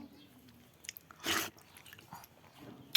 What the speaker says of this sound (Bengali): পাকা পাকা আম দিয়ে পান্তা ভাত খাচ্ছি